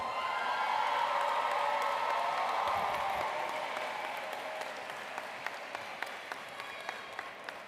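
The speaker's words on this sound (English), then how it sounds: "Another round of applause for all of our graduates." Audience applause for graduates at the 60th commencement ceremony of the Capital District Educational Opportunity Center, a dense, steady wash of clapping that gradually thins and softens, with a few sharper individual claps near the end.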